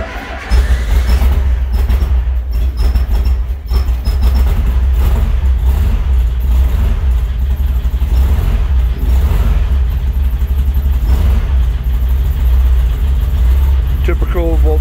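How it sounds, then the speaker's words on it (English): An air-cooled Volkswagen engine without a choke, cold after sitting two days, starts and then idles roughly with a loud, uneven, ragged low rumble that carries on steadily throughout. "Typical Volkswagen startup."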